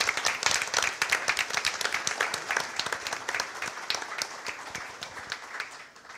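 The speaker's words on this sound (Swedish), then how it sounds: "vi ger en stor applåd på scen för Katarina Elmsäter-Svärd" An audience applauds on stage for a former Swedish infrastructure minister at an Almedalen transport-policy event, dense rapid clapping from many hands, fairly loud and continuous, tapering slightly toward the end.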